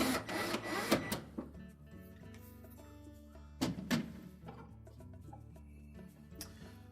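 A cordless screwdriver drives screws during a GE refrigerator evaporator fan motor repair. It whirs in two short bursts, one at the start and one midway, with quieter handling noise between.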